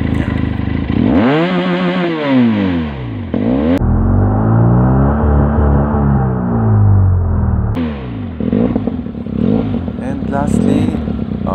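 Benelli TRK502 motorcycle engine revved repeatedly toward its RPM limit, rising and falling sweeps with a sustained high hold in the middle, loud and close, with brief talk underneath.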